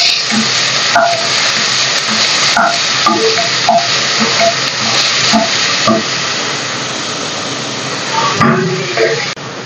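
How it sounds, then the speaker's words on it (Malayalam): Chopped onions sautéing in a pan for a chickpea curry give a loud, steady sizzling hiss throughout, with occasional clicks and scrapes of stirring breaking through. "ഉള്ളി ഇട്ട് കൊടുക്കാം നന്നായിട്ട് ഇറക്കി"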